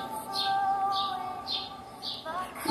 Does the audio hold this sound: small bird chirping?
yes